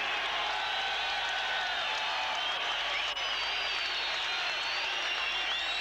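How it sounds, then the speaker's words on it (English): A big boxing arena crowd at the Palace applauds and cheers for Muhammad Ali, a continuous roar of clapping and whistles filling the hall at a steady level. "this crowd here at the Palace, a big crowd responded"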